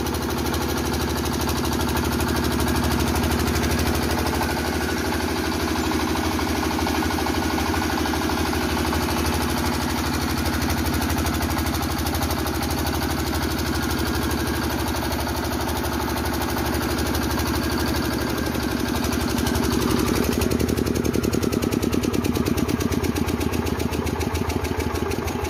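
A DJ generator set with a 12 HP air-cooled engine and 7.5 kVA alternator runs steadily at close range, a loud continuous mechanical drone with rapid knocking pulses, alone without talk.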